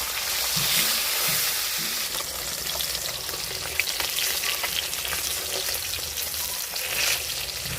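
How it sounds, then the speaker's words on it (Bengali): Katla fish pieces fry in hot oil in a wok, giving a loud, continuous sizzle and crackle with occasional stirring scrapes and no talking. "এবার কড়াইতে তেল দিয়ে দেব। তারপর মাছগুলোকে ভালো করে ভেজে নেব।"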